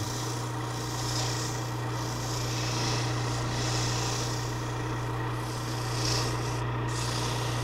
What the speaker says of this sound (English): When I sand the coves, I roll the sandpaper into a little cylinder